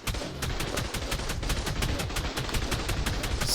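Heavy auto turret in ARK Survival Evolved fires a rapid, sustained burst of evenly spaced gunshots, about five per second, loud and close throughout with no talk over it.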